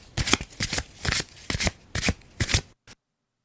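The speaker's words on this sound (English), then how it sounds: "Card Shuffle." Card shuffle effect from a casino game sound pack: a close, crisp run of rapid riffling bursts in uneven rhythm, ending in a brief tap before silence.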